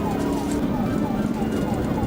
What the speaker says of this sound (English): leaving behind a blaring siren